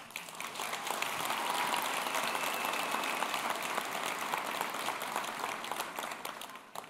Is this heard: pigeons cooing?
no